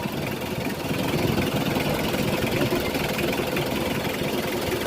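A 2016 Mitsubishi L300 Deluxe van engine idles in a steady, even rumble with a continuous low mechanical churn, heard close up and alone with no talking.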